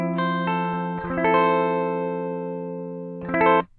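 Clean bypass tone of a Gibson ES335 electric guitar run through a tube preamp, with a few sustained chords and single strums ringing out, then a final quick strum near the end; no talking.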